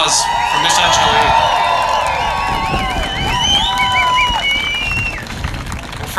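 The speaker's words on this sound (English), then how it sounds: "let's give another round of applause for Miss Angelique" An audience at an outdoor rally in support of Ukraine in Washington applauds and cheers after a performance, steady clapping and whoops with voices and whistles over it throughout.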